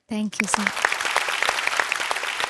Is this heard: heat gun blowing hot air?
no